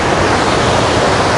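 Mountain river in Dombai rushing and churning, a loud, dense, unbroken roar of flowing water close by, with no voices.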